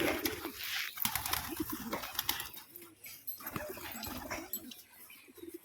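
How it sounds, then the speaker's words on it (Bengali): A male pigeon coos repeatedly nearby, soft low throaty calls over rustling and background noise. "এটা নর পায়রা, ভালো ডাকও আছে পায়রাটার"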